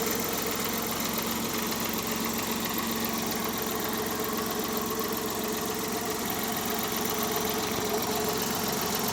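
A 2012 Maruti Suzuki 800 with air conditioning idles steadily close by, its small engine giving an even, slightly rattly hum throughout with no talking.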